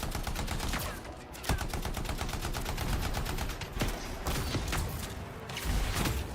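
Sustained gunfire in the sci-fi shooter Anthem, rapid bursts of automatic shots crackling steadily for several seconds with heavier thuds and impacts mixed in, loud and close.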